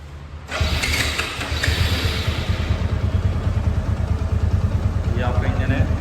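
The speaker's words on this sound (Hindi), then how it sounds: "ये आपका इंजन है आइडल।" A rebuilt motorcycle-type engine cranks and catches after a moment of quiet, then settles into a steady, close, rhythmic idle with a fast even pulse and faint mechanical clatter, with a voice speaking over it.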